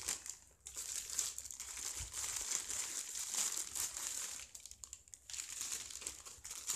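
Plastic packaging around a pair of gym gloves being opened up close: continuous crinkling and crumpling with brief tearing rustles, fairly quiet and with no talking.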